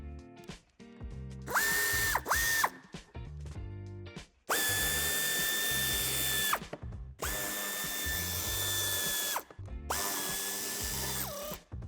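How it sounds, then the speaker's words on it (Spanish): Bursts of a power drill or driver whirring at rising and falling pitch, several separate runs of a few seconds each, up close, as screws are backed out of the wheel arch liner of a 2020 Audi A4 Avant, with short ratcheting clicks between. "A continuación quitaremos los tornillos de ambos pasos de rueda y de la parte inferior"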